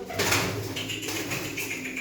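Pigeons coo close by in low, rolling calls, with a couple of soft repeated coos over faint background noise.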